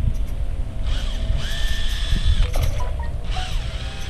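A power drill used for ice fishing whirs in short bursts, rising and falling in pitch over a low background rumble, with brief pauses between runs.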